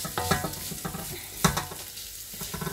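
Minced meat for a homemade bolognese sauce cooking in a pan, stirred with a few uneven scrapes and knocks over a soft sizzle, close and alone.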